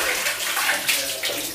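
Water gushes at full force from a bathroom tap during a water tank repair, a steady broadband rush that holds close and loud for the whole stretch, with small surges but no pauses.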